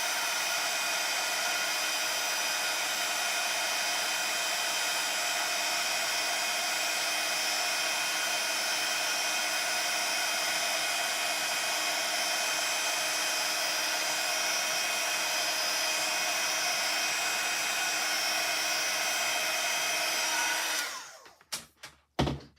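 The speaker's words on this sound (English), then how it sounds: "Get my heat gun and dry that off." A handheld heat gun blows a steady, loud, close whoosh with a whining hum for about twenty seconds while drying a painted craft journal page, then cuts off and is followed by a few brief handling knocks.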